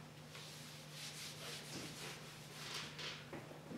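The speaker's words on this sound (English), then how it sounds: "I can now rub that off." Writing being rubbed off a board during a worked electronics maths lesson, faint repeated scrubbing strokes in an irregular rhythm over a low steady hum, no talking.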